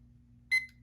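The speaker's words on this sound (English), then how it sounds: "Okay, I'm gonna stop the timer." A short electronic timer alarm from a papercraft session sounds once, a bright tonal beep burst lasting about a fifth of a second over a quiet low hum.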